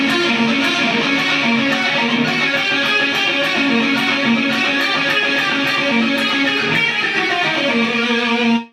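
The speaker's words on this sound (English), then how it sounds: "the next scale I'm going to include is called the bebop scale" A bebop scale runs note by note on a melodic instrument, bright and steady, with a short chromatic passing run and a sustained final note that fades out.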